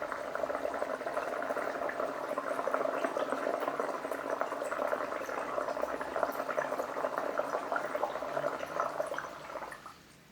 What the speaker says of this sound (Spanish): Ahí ya las burbujas prácticamente llegan al borde del vaso y hasta me salpicó un poquito en la mesa